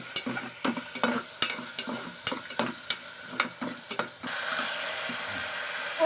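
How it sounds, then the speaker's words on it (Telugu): Ginger garlic paste frying in hot oil, stirred in a pan with repeated sharp scrapes and clatters over a steady sizzle that swells and takes over near the end. "ఫస్ట్ జింజర్ గార్లిక్ పేస్ట్ వేసుకుని దాన్ని రోజ్ కలర్లో వచ్చే వరకు ఫ్రై"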